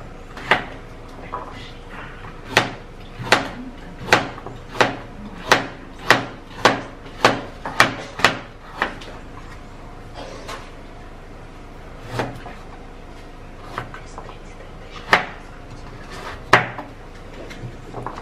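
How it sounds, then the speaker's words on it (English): A knife chops ingredients on a cutting board into tiny pieces in a rapid, steady run of sharp knocks, then stops and resumes with a few scattered strokes, close up and with no talk. "then you're going to chop in little tiny pieces"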